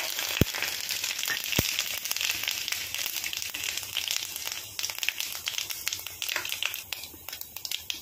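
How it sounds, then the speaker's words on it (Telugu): Spices and peanuts are tempered in hot oil for a poha pulihora, giving a busy, continuous crackling sizzle close up, broken by a couple of sharp pops early on and no talking. "పోపులు అన్నీ వేస్తున్నాను, పల్లీలు కూడా."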